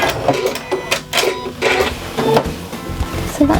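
A sewing machine stitches a bias-cut neckband on a patchwork top made from tea towels. Its rapid mechanical whirring comes in repeated short bursts with brief pauses, close up and fairly loud, with no talking.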